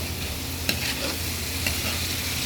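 Pancit bihon rice noodles are stirred with soy sauce in a hot pan. A soft, continuous sizzle runs under occasional sharp utensil clicks, with no talk.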